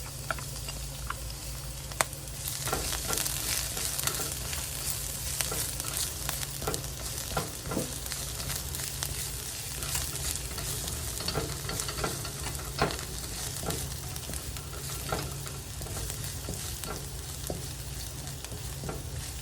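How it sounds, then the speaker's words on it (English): Garlic frying in a wok for homemade fried rice gives a dense, continuous sizzle with scattered spatula scrapes and pops, close up and with no voices. "Let this garlic cook up a little bit."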